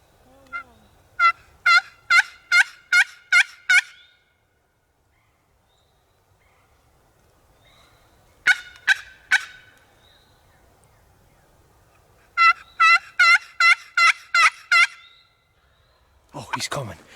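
A wild turkey tom gobbles repeatedly on the opening day of turkey season in Indiana, loud rapid stuttering bursts in three bouts separated by quiet gaps, with a brief rustle at the end.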